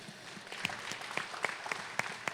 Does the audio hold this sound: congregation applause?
yes